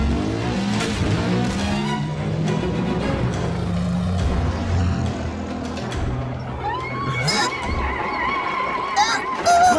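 A motorcycle engine revs and roars steadily through an animated Transformers: Prime chase, loud and close, mixed with music and sound effects.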